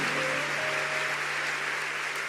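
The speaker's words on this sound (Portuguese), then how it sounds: "Pode aplaudir, vamos cantar" Church congregation clapping together during a worship service, a continuous, even wash of applause filling the room with a steady low hum beneath it.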